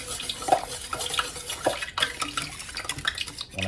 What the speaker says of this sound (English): keep adding, keep stirring